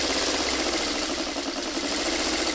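Sewing machine running steadily with a dense, even mechanical whir and rapid needle chatter, close and loud throughout the short stretch with no pauses or talk.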